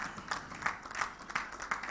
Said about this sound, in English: Please let's give Honorable Commissioner a round of applause